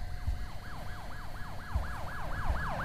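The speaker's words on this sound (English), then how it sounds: "There's nothing unusual happening. Except the sirens outside." Wailing emergency sirens sound outside in the horror video game Repleh County Archives, a steady rising-and-falling warble repeating evenly, moderately distant and alone over low background rumble.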